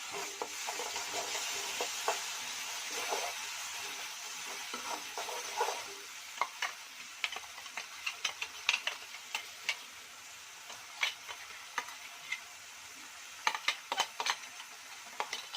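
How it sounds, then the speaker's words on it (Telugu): Jeera and chilli paste cooks gently on a low flame, giving a soft, steady sizzle with scattered ticks and pops that grow more frequent toward the end, with no talking. "సో సిమ్లో పెట్టుకొని కుక్ చేసుకుందాం."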